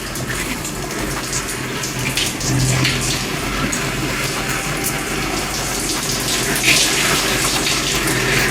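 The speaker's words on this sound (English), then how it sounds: "I'm gonna go in the shower now and use the neutralizing shampoo." Shower water runs steadily as 4C hair is rinsed with neutralizing shampoo after a texturizer treatment, making a continuous close spray with no talking.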